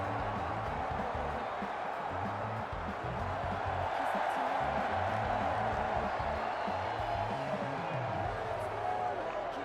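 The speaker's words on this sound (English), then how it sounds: "Big cheers from the crowd." A wrestling crowd cheers steadily as a masked tag team makes its entrance, a broad, constant roar of many voices under commentators talking throughout.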